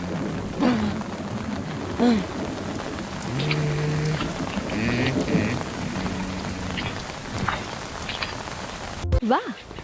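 Rain falling in an animated cartoon, a dense steady patter and hiss filling the whole stretch, with some faint tonal background sounds mixed in, ending in a brief cut.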